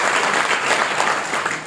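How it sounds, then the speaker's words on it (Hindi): Loud, dense audience applause at a motivational talk, many hands clapping together in a thick continuous roar that holds steady throughout. "एक बार उनके लिए जोरदार तालियां।"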